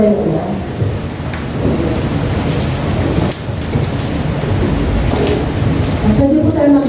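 Heavy rain pours down steadily with a deep rolling thunder rumble, loud and close, filling the whole stretch with dense hiss and low booms.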